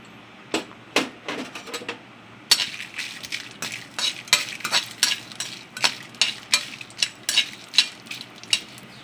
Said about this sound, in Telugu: వేసుకొని మనం ఇందులో ఎండుమిరపకాయలు మనం వేసుకొని వాటిని కూడా మనం దోరగా వేయించుకోవాలి